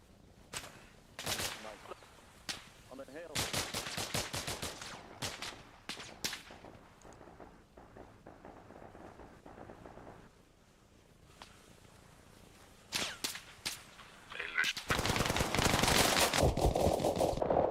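Gunfire in the military shooter game ARMA Reforger: bursts of automatic rifle fire and single sharp shots, some close and loud, others more distant, with pauses between volleys and a dense sustained burst near the end.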